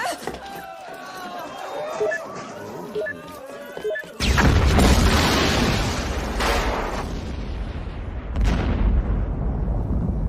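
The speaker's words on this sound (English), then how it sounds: "The explosions." A sudden loud blast hits after a stretch of background voices and music, followed by roaring debris and a second explosive burst.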